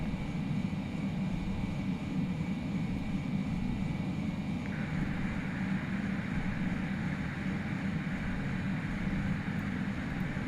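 An Airbus A320 engine roars at takeoff in the FSLabs flight simulator, a steady low rumble that holds evenly throughout with no voices.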